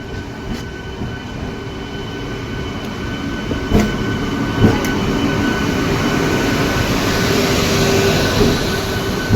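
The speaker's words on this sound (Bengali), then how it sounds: "এবারে পুরুলিয়া থেকে আদ্রা যাচ্ছি ট্রেনে" A passenger train on the Purulia–Adra line rolls into a station with a steady, loud rumble of wheels and carriages, with brief clanks and a faint squeal over the continuous noise.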